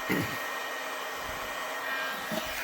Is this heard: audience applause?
no